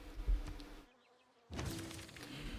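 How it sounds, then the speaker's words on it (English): Flies buzzing in Civilization VI, a faint insect drone that drops out briefly in the middle, then returns fuller and busier. "Listen to those flies buzz."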